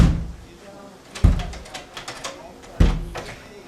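A heavy church door is forced open during a staged Revolution-era scene, giving two sharp knocking thuds about one and a half seconds apart, with rattling and creaking between them and voices murmuring underneath.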